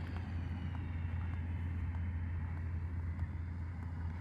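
Small electric motor and propeller of a Volantex F4U Corsair 500mm RC plane droning steadily at a moderate distance during takeoff into a breeze, continuous with no voices.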